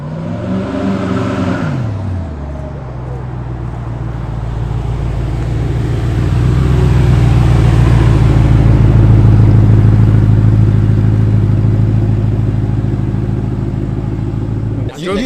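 A Koenigsegg Regera launches with its engine accelerating, a loud, close roar that builds in pitch and intensity over several seconds, then holds a sustained high drone before easing off near the end.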